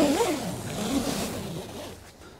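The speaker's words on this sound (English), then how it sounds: "You'll find a little zipper here, so in bad weather you can totally close it." A small zipper is drawn shut across the ventilation opening of a Country Cottage 500/600 backpacking tent. It makes a steady, fairly loud rasp that lasts about two seconds and fades slightly at the end.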